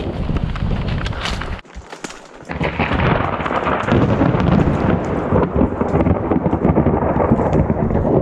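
Loud thunder rolls and cracks close by over steady heavy rain, with a brief dip in the middle before the rumbling surges back and continues.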